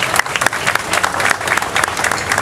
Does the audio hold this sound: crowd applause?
yes